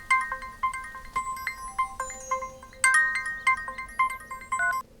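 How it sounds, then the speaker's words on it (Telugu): A mobile phone rings with an incoming call, a bright electronic melody of quick repeated tones playing loud and alone, with no talk over it. "అరే వదిన ఫోన్ చేస్తుంది,"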